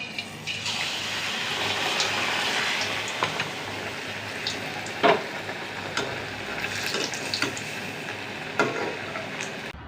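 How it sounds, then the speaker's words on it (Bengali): Ash gourd fritters stuffed with filling fry steadily in hot oil, a continuous close sizzle with occasional pops and crackles, no voices. "এখন আমি এটা গরম তেলে দিয়ে দেব।"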